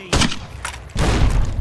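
Two loud, booming blasts go off in the Fallout: New Vegas video game, one near the start and a heavier, longer one in the second half, with a rumbling tail after each.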